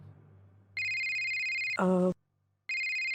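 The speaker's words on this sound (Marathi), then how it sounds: "बाबांचा फोन आहे" A phone rings with a bright electronic tone, two bursts separated by a short gap, with a brief different-pitched electronic blip between them.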